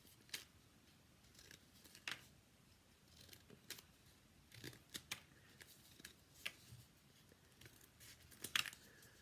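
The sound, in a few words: scissors cutting paper triangles for a craft mask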